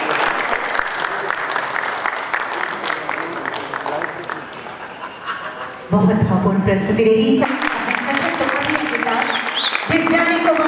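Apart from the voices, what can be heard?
audience applause after a theatre performance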